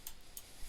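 A computer mouse gives two quiet, sharp clicks spaced about a third of a second apart against a soft background hiss.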